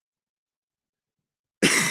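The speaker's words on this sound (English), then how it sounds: "Like I hate coughing in the mic" Silence, then a single sharp cough close to the microphone right at the end.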